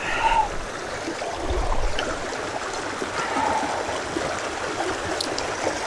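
Shallow creek water flowing and trickling steadily around a hiker wading on a Southern California trail, with a soft continuous burble at close range and occasional brighter splashy accents.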